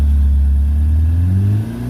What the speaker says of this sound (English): V8 all-aluminium dry-sump engine we are talking about